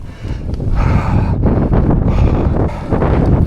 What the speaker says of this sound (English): Fucking hell, the wind as well, nearly blew me off.